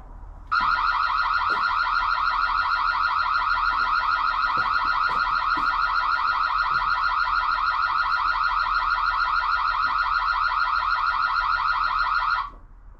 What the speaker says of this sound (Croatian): A ovo je alarm protiv krađe zvona sa vrata.